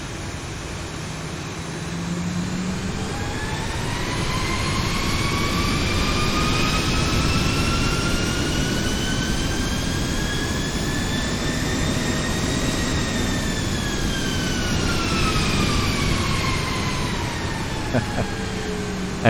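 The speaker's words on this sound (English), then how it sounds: "let's just get right in front of the plane and let's rev the engines just once" Boeing 737 jet engines spool up from a low rumble into a rising, loud whine that holds and then winds back down, heard steadily from nearby in front of the aircraft.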